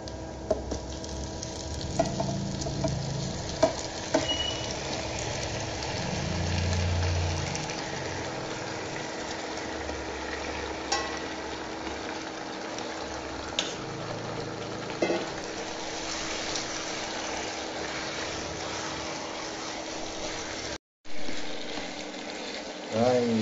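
Meat stir-fried with garlic and lemongrass in a hot pan, a steady close sizzle running throughout with occasional scrapes and stirring clatter, broken by one brief dropout near the end.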